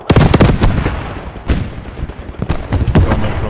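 Gunfire in the WWII shooter Post Scriptum, near and loud, comes as a quick rattling burst at the start and then separate sharp cracks and booms spaced over a few seconds.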